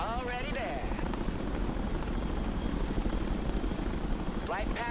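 A Chinook helicopter flies in the video game Broken Arrow, its rotor chop throbbing steadily and loud throughout, while someone talks over it.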